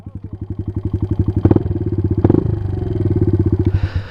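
A motorcycle engine with a freshly rebuilt carburetor idles close by, a loud, steady, lumpy putter with a couple of brief clattery knocks partway through and no talking.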